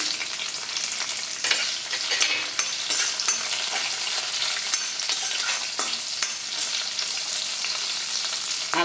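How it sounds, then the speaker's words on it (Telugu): Broken dried red chillies fry in hot oil in a pan, a constant bright sizzle heard up close with occasional spoon scrapes and small pops punctuating the crackle throughout. "ఇలా తుంచి వేసుకోండి అమ్మా తొందరగా వేగుతాయి మిరపకాయలు"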